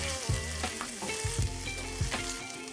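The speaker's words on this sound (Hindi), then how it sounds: "मैदा को जो है बहुत क्विकली हिलाना होता है" Flour and minced meat stirred quickly in a frying pan for a creamy garlic pasta sauce, with steady sizzling and repeated scraping strokes of a spoon against the pan, close and continuous.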